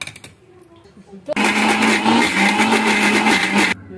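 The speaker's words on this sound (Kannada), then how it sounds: "ಇದನ್ನು ಮಿಕ್ಸಿ ಜಾರಿಗೆ ಹಾಕೋಣ ಈಗ." After a few quiet clicks, a mixer grinder starts up and whirs loudly and steadily for a couple of seconds, grinding a paste, then stops abruptly.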